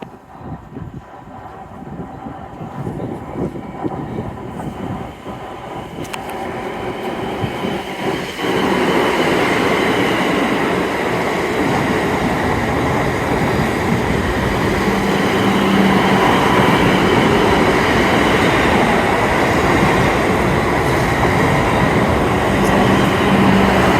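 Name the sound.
train passing at Clapham Junction station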